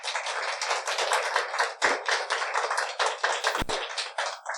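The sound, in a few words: congregation clapping in church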